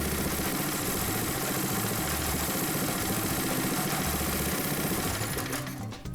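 A Predator 212 small engine on a go-kart runs loud and close with a steady, rapid mechanical chatter, then sags and dies at the very end as the choke is turned off and the idle circuit in the carburetor fails.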